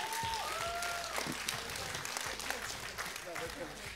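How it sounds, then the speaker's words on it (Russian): Audience applause at a festive Christmas evening gathering, dense steady clapping filling the room throughout, with a voice speaking over it near the start. "Особые аплодисменты красавицам."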